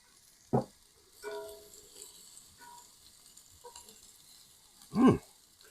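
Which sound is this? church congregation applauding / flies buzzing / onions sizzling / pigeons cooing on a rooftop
onions sizzling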